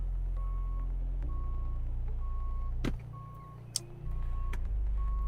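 Evenly spaced electronic beeps repeat about once a second in the game Starbase, sounding over a loud, low, steady engine-like drone that briefly drops away and returns.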